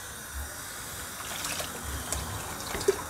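Water runs and splashes steadily into a pot of cooked rajma, a soft continuous pouring with occasional gurgles, close by and moderately quiet.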